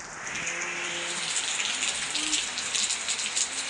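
Rain falls steadily during the Dashain festival, with a continuous close hiss of drops striking surfaces and a few faint tonal sounds in the background.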